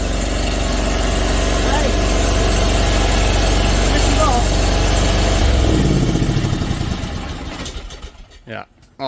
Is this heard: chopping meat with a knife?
no